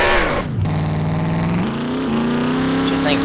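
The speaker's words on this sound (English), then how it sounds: "He might do a standing burnout here for a second." A car doing a standing burnout at a 2011 burnout competition, its engine held at a loud, steady rev with the pitch sagging and then climbing again throughout.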